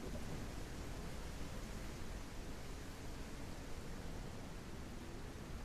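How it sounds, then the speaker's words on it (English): Heavy rain falling outside, a dense, steady hiss that fills the scene evenly at moderate volume with no pauses and no voices. "hope that it's not crazy raining like it is right now"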